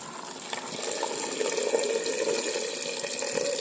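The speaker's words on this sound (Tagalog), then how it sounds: "Lagyan natin ng tubig." Water pours steadily into a cooking pot being filled for sinigang with beef skin and tamarind leaves, a continuous close splashing gush that holds at an even level throughout.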